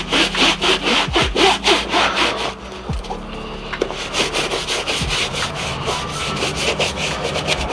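A cleaning brush scrubs a shoe in quick back-and-forth strokes, a loud close rasping rhythm with a few knocks, and no talking.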